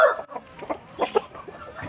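Roosters cluck in short, scattered bursts nearby, a few quick throaty calls overlapping with quiet gaps between them.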